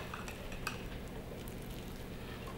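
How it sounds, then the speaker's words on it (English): Mashed banana is stirred into a gluten- and grain-free banana bread batter, giving a steady soft squelching and scraping texture with faint clinks of a utensil against the bowl, close and continuous. "let's start mixing in the banana."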